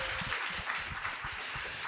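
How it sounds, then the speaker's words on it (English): An audience applauds steadily with dense, even clapping throughout, filling a hall at an event on Muslim narratives and justice. "Let's give them a big round of applause for bringing this kind of programming."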